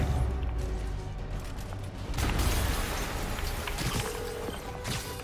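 A blast goes off in Marvel's Spider-Man Remastered, a loud broadband burst over steady rumbling action noise, followed by sustained crashing and debris.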